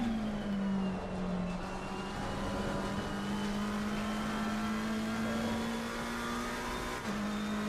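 A race car engine in Assetto Corsa Competizione at Mount Panorama drones steadily at high revs, with slight pitch dips and rises as it runs down the mountain, continuous and fairly quiet.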